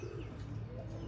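Pigeon, a hen among racing birds, gives a brief low coo close by over a steady background hum.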